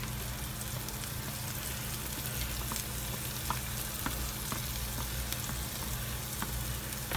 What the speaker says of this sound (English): I get the sofrito going and cooking